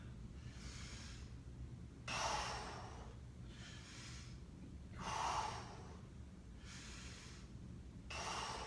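Someone breathes hard between exercise sets, heavy breaths in and out repeating about every three seconds, close and fairly quiet, with no speech.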